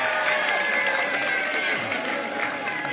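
A group at a fire-hazard training session claps for a snake just caught in a basin, a dense close burst of applause lasting throughout with voices mixed in.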